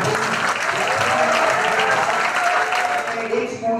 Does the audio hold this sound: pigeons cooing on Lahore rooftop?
no